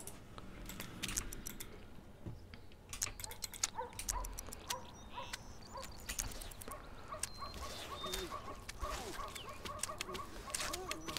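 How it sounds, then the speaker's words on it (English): Several dogs in The Sims Pet Stories game make quick, scattered barks and yips over a busy background of small ticks and clicks, moderately quiet and continuous throughout. "So many dogs."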